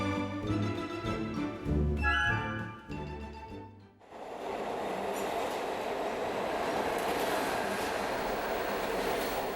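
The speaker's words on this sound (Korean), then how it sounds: "뉴욕의 지하철." A New York subway train rumbles loudly and steadily through a station, a continuous roar with rail noise that takes over after a few seconds of street music.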